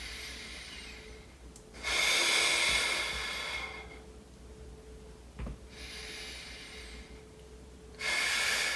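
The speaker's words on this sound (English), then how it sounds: "So in through the nose. Nice long exhale." Slow, deliberate breathing during a back and core exercise: a long hissing inhale through the nose, a pause, then another long airy breath, each close and steady, with no talking.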